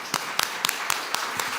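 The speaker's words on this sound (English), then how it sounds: "So please, round of applause for our panel." A small audience at a talk on food sovereignty and the climate crisis claps for a panel, producing a sparse, fairly quiet run of distinct claps spaced about a quarter second apart.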